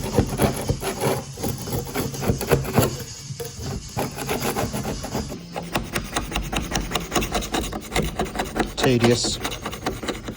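Steady rasping scrape of a tool working paint off the metal panel of an MG ZR Express Turbo van, repeated strokes close and fairly loud for the whole stretch, with one brief spoken word.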